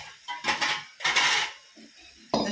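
A metal tawa griddle clanks and scrapes in a home kitchen as breakfast is made, giving two loud bursts of metallic rattling and a third sharp clatter at the end, close by, with no talking.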